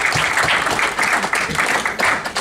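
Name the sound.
round of applause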